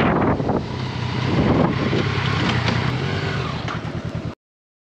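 Motorcycle riding at speed on a road test of heated gloves and vest, with steady loud wind buffeting the helmet microphone and a low engine drone underneath, cutting off abruptly near the end.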